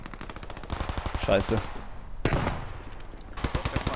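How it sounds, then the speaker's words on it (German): Rapid automatic gunfire in the WWII shooter Post Scriptum during a town sweep of Carentan, a close burst of shots followed by a second volley, with a voice briefly cursing over it. "Der Schuss ist ab."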